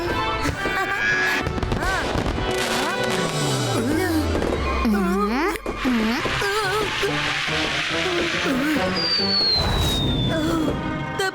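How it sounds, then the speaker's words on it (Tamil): Diwali firecrackers and rockets in a Tamil cartoon crackle and burst continuously amid whistling, sizzling fireworks, with a rising whine and sharp pops, loud and close throughout. "பட்டாசு ரொம்ப கவனமா பார்த்து வெடிக்கணும்."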